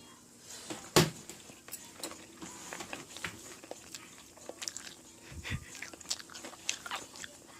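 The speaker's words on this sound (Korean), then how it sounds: "시작 먹어보도록 할게요" A kimchi rice wrap being eaten, with one sharp close bite followed by several seconds of wet chewing and small crunches, up close with no talk.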